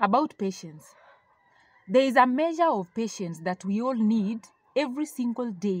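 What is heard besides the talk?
chickens clucking and rooster crowing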